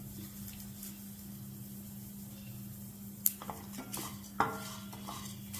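Ingredients for mango chutney roast in a pan under quiet stirring, with faint scraping and a few sharp clinks of a utensil against the pan over a steady low hum.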